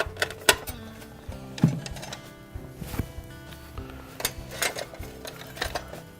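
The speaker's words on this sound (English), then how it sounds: "we're going to remove these 3/4" hex head screws" Metallic clicks and rattles of 3/4-inch hex head screws being removed from the metal cover on a Frigidaire refrigerator, with steady tool ticks over a low background hum.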